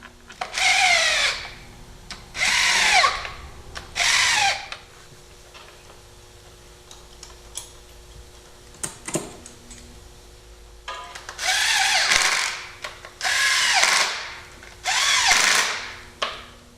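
A ratchet working the bolts while replacing spark plugs on a Saturn with a random misfire: three close bursts of ratcheting clicks, a quiet pause with faint handling, then three more bursts.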